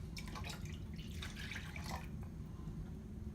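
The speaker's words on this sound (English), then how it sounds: "Next, you will add your whole milk into the pot." Whole milk poured into a pot already holding evaporated milk, a continuous soft splashing pour that is steady and close-up and fades near the end, with no voices.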